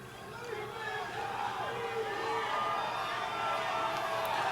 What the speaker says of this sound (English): Everyone's like too busy cheering for him to be able to talk.